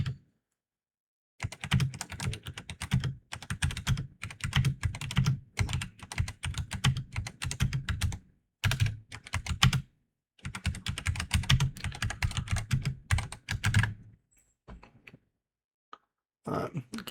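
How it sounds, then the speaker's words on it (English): Rapid typing on a PC computer keyboard runs in close, clattering bursts of keystrokes, broken by short pauses, with a few quiet throaty sounds near the end. "So I kind of suck at typing right now."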